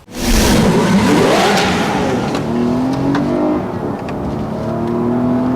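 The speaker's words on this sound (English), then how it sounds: "It's a really great engine, silky smooth, makes a nice sound" A 2018 Lexus RX 350 L's 3.5-liter V6 engine revs up steadily as it accelerates, its rising drone loud and close, with a smooth continuous tone and no talking.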